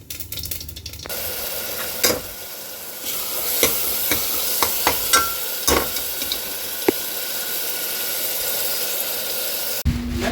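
Oil heats in a pressure cooker for a tadka with ground ginger, onion and green chillies, a continuous close sizzle broken by several sharp clicks and scrapes of a utensil.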